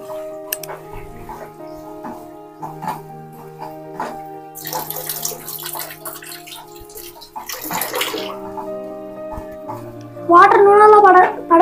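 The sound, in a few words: tap water running while washing hands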